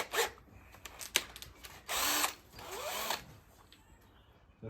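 A 6.3mm drill bit bores a hole for a helicoil insert in a Honda 400 Four engine part, heard as several short bursts of whirring drilling close by, with a longer steady run in the middle, no talking.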